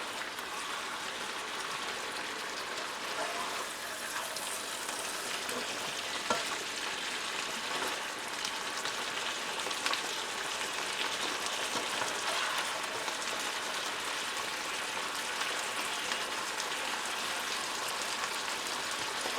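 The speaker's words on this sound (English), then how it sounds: "And I'm going to let it boil for a little bit, and it will reduce a little." German potato salad dressing with bacon and onion boiling and bubbling in a pan, a steady close sizzle and crackle with faint spatula scrapes, continuous and even with no talking.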